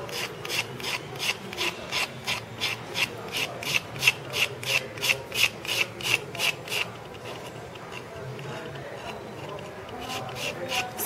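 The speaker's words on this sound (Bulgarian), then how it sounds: "сега взимаме едра шкурка и започваме да отнемаме от горния слой" Coarse sandpaper scrubs white-painted wood over a wax-candle base in about seventeen quick, even, rasping strokes over seven seconds, then gives way to a softer, steadier rubbing.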